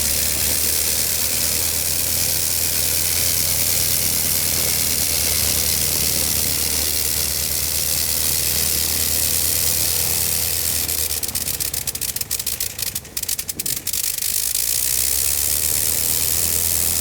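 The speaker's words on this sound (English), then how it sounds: "After the engine run-up" A Tommy Morse Scout airplane's engine drones steadily through a run-up, a loud continuous mid-pitched roar that stays nearly constant, with gusty wind buffeting briefly toward the end; no one speaks.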